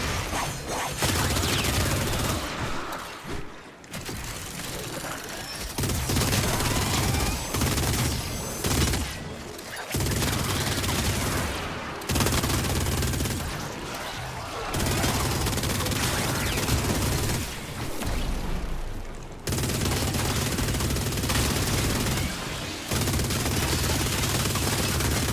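Rapid automatic gunfire from weapons in the video game Warframe, sustained bursts that roll on almost continuously with brief gaps, loud and dense throughout.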